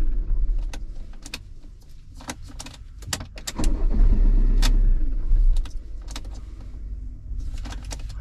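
A BMW X1 2.0i engine cranks and catches after hesitant attempts, a low rumble swelling to a steady idle for a few seconds, with sharp clicks and jangling around it.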